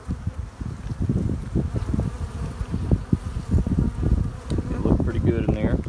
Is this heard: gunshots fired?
no